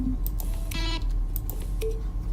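Button sounds from The Stanley Parable video game, keyboard strokes layered with brief synthesized tones, a handful of crisp clicks with short pitched chimes spaced irregularly, clear and close without speech.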